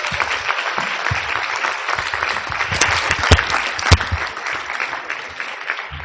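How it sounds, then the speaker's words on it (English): Audience at a leadership conference giving a steady round of applause, dense continuous clapping from a large room, with a few sharp louder claps standing out partway through. "Ladies and gentlemen, can we have another round of applause?"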